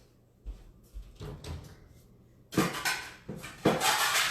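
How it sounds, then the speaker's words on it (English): A plate is taken from a kitchen cupboard: soft knocks and a cupboard door sound, followed by louder clattering of dishes and crockery, close by. "So I've just got to grab a plate"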